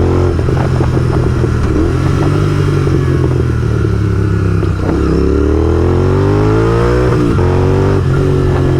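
A motorcycle accelerates hard while being ridden fast at night, its engine climbing through rising revs with a shift near the midpoint, loud, close and continuous.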